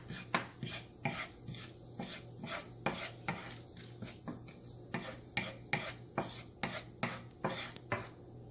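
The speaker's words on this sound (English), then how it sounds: "When the oil is hot, I am going to add whole garam masala" Whole garam masala spices frying in hot coconut oil in a pan, with sharp crackling pops at a steady rhythm over a low continuous sizzle, close and fairly quiet.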